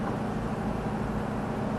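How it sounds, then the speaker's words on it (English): A Marks & Spencer lorry chugs somewhere outside, a low steady engine rumble heard as constant background noise with no voices on top. "All right, you could hear the chugging in the background there."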